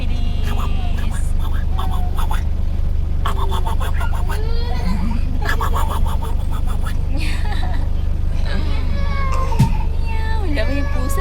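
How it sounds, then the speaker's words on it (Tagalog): A cat meows repeatedly in drawn-out, wavering calls over a steady low hum, with soft background voices in between. "Wala may pusa, Feliz."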